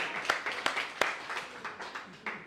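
Audience applause: sparse, irregular handclaps, faint and scattered, several distinct sharp claps spread over a couple of seconds with a soft voice faintly underneath.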